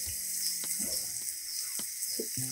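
Ginger garlic paste and coconut paste fry in a pan for a fish masala curry, giving a steady close sizzle with a few sharp clicks and scrapes from a utensil, with no voices.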